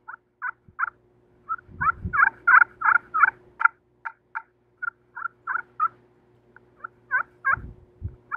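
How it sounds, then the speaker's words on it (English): A turkey call plays a soft tree yelp: quiet, clipped notes in uneven clusters, some quicker and denser, heard up close in near silence, with occasional low handling thumps. "A very soft tree yelp."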